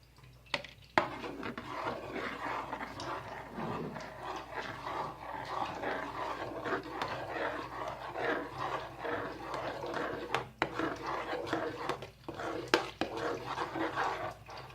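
Vanilla pudding with butter and essence stirred in a pan, a continuous rasping scrape of spoon against metal with occasional sharp knocks, close and steady throughout.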